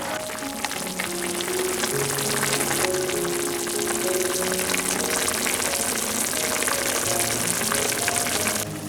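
Braised beef seasoned with sugar, salt and pepper simmers over medium heat, giving off a dense, continuous sizzle and bubbling. Melodic background music plays underneath throughout.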